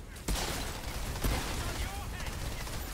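Shotgun blasts from the Outriders video game: sharp reports stand out at intervals over a dense, continuous layer of game noise and combat.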